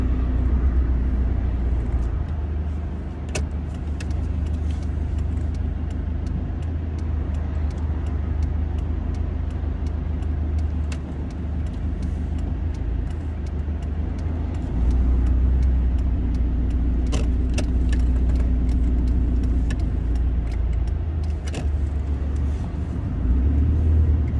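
A car on Monroe OESpectrum shock absorbers drives along a road, its engine and tyre rumble steady and close throughout, with occasional light clicks and rattles from inside the cabin.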